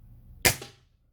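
A single sharp air gun shot firing an H&N Baracuda Black Ops pellet into a target, a short snappy crack with a quick fade, close and alone.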